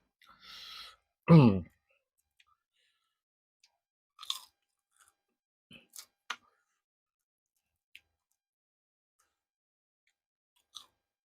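Someone bites and chews crunchy northern Thai food, green mango salad with dried fish, grilled fish and fried squid, close to the mic: a loud crunch, then sparse smacks and soft chewing sounds in quiet between bites.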